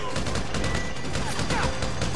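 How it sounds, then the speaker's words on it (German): Sustained heavy machine gun fire in GTA V during a bank heist, dense rapid bursts filling the whole stretch, loud and continuous with faint voices underneath. "Alter, mit einem schweren MG die ganze Zeit hier am Rumballern."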